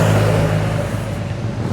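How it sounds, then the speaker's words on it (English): A motorbike rides along a Lake District road and passes close by as one loud, steady engine roar that fades slightly over a brief moment. "Oh, nice motorbike."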